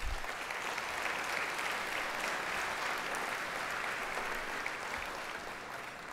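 A large audience at a horse racing awards ceremony applauds steadily, dense sustained clapping that holds at an even level throughout with no voices over it.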